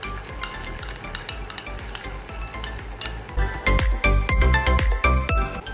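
Onions, ginger, garlic and green chillies frying in a pan produce a constant sizzle, joined near the end by louder rhythmic spoon scrapes and clinks against the metal as the mix is stirred.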